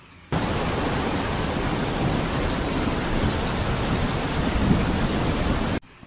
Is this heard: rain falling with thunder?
yes